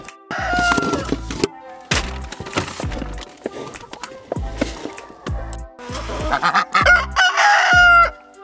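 Chickens cluck and squawk nearby in repeated bursts, with a rooster-like crow rising among them and short thumps underneath.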